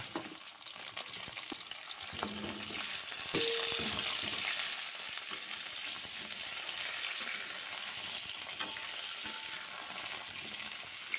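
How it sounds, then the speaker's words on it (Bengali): Pieces of pointed gourd (potol) fry in hot oil, giving a steady, close crackling sizzle with occasional faint stirring clinks, constant and fairly quiet throughout with no voices. "ঠিক একইভাবে আমি পটলগুলোকেও ভেজে নেব"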